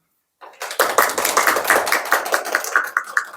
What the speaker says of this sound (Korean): 그럼 장성원 연구원님을 큰 박수로 모시겠습니다.